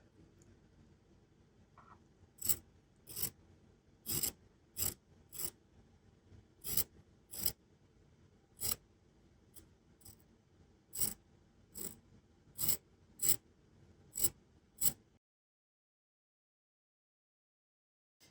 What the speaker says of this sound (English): that's very easy to remove using applique duckbill scissors like this